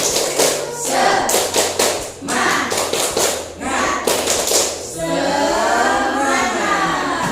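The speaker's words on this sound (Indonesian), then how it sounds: "Yuk, tepuk semangat." A classroom group performs a rhythmic clapping routine, loud patterned bursts of claps in time with chanting voices, ending in a longer shouted group chant.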